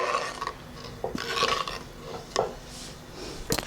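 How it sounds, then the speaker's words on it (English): Croutons tumble into a heated pan for dry roasting as tomato soup is prepared, giving a few separate light clatters and scrapes with quiet pauses between them. "Just simply going to add our croutons to the pan"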